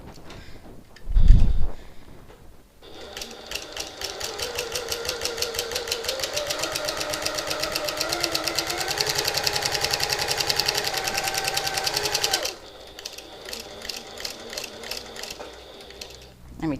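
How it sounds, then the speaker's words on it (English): A sewing machine stitches a line on a reversible hobo bag, a loud, steady mechanical whir running for about ten seconds close by, preceded by a brief thump and followed by quieter rhythmic ticking. "So I've just sewn up that first line"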